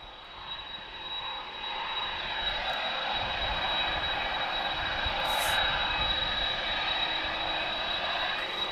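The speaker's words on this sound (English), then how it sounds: "Some more heavies pushing back, guys. There's some A330s as well." Airbus A330 heavy airliners pushing back at Lisbon Airport, a steady broadband jet engine roar at moderate distance that holds for several seconds with no talking.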